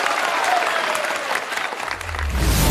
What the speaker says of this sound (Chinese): 再次掌声鼓励我们的窦成匡长鹏旭